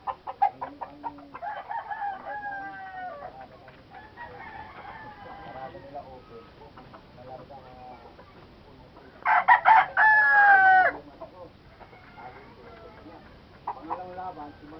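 Gamecock roosters raised for cockfighting crow and cluck throughout, with a loud, close crow standing out midway and further calls near the end, while people talk in the background.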